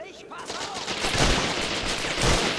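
Rapid gunfire in Medal of Honor European Assault crackles through a dense, noisy battle din, loud and continuous with a few heavier bursts standing out.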